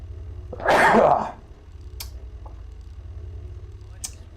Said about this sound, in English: And now I need to sneeze.